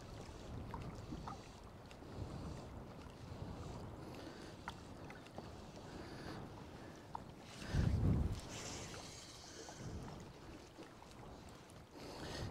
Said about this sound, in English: The wind around here, it's a bit exposed around here, and it's a bit more gusty and changeable.